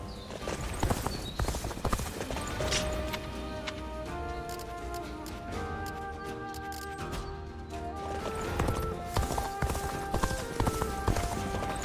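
Hooves clip-clop in a rapid galloping rhythm from a horse in the video game Dynasty Warriors: Origins, steady and fairly near beneath a layer of game music with sustained tones.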